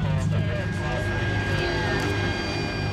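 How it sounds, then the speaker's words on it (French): Fighter jets taking off at Kandahar military airport in Afghanistan at night, a loud continuous roaring jet rumble with a whining high tone, close and sustained throughout. "Entre deux décollages d'avions de chasse"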